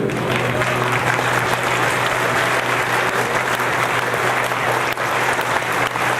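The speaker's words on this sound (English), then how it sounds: "Big round of applause." An audience at a furry convention puppet show claps loudly and continuously, a thick sustained roar of hands over a low steady hum.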